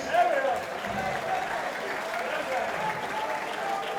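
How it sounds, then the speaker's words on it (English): A fight crowd applauds two fighters as they are brought to centre ring, giving a steady, moderately loud spread of clapping with a voice faintly mixed in underneath. "Please give them both a big round of applause, they deserve it."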